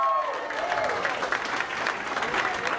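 An audience at an election event applauds a cabinet minister, steady sustained clapping from a crowd in a large room, with a voice faintly over it.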